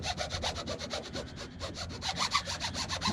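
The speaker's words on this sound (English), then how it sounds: "give it a bit more thorough scrubbing by kind of taking the edge of the card" A card edge scrubs firmly back and forth over an artwork decal on a painted RC truck body, a fast, steady run of close, rasping strokes.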